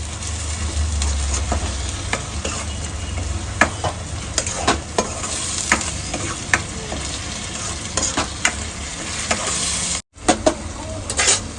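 Pureed tomatoes fry in a pan for dal makhani while being stirred continuously, giving a loud, close, steady sizzle with repeated spoon scrapes and taps and no talking.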